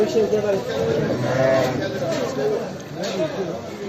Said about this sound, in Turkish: Bu koyun ne?